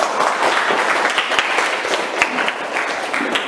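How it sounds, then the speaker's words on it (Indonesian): A classroom of students claps together during a social studies lesson, a loud, close burst of many hands sustained evenly to the end. "Hebat, tepuk tangan"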